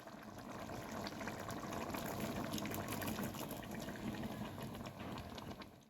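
Boiled peas go into a pot of boiling water for motorshutir ghugni, giving a steady rush of churning, bubbling liquid that stays fairly even before tapering at the end.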